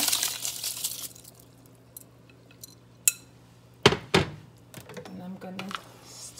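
Washed rice goes into a pot with peas on a stove, giving a few sharp metallic clanks and clatters of pot and utensils at uneven intervals over a quiet kitchen background, with a voice speaking at times.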